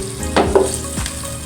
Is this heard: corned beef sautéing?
yes